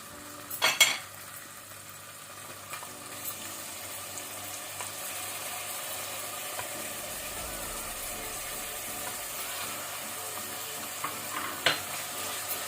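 Tomatoes fry in a pressure cooker for prawn biryani, making a low, steady sizzle. Clanking stirring strokes with a metal spoon come near the start and again near the end, close and quiet.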